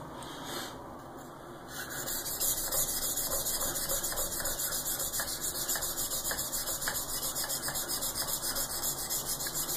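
A ZDP-189 steel knife is drawn across a King whetstone in steady, repeated scraping strokes, a close gritty rasp that begins after a brief softer pass and continues rhythmically.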